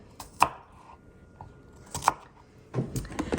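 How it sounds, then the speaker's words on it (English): A knife chops cranberries by hand on a cutting board for cranberry orange shortbread after the food processor died; there are sharp, separate knocks with gaps between them and then a quicker run of chops at close range. "So that means I'm chopping by hand today."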